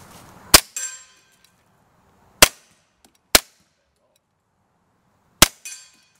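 Four sharp Hi-Point carbine gunshots crack outdoors at irregular intervals, each a loud, abrupt impulse, with faint rustling between them and no talking.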